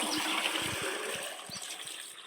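Water is drawn from a household well behind an old family home, a quiet running trickle and splash with a few soft knocks and thuds scattered through it.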